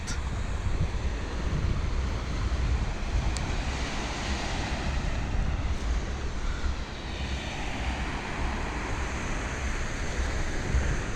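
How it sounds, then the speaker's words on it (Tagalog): Steady wash of sea surf on a beach in Bugasong, Antique, Philippines, with constant wind buffeting the microphone, a broad unbroken roar with no voices. "ito ang dagat dito guys"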